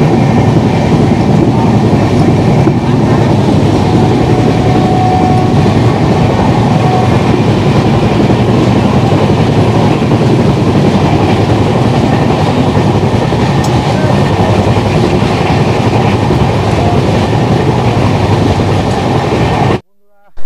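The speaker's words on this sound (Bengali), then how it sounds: "দারুণ স্পিডে চলছে ট্রেন" The Kamrup Express, an Indian passenger train, runs at around 115 km/h, heard from onboard as a loud, steady roar of wheels and rushing air that continues until an abrupt cut at the end.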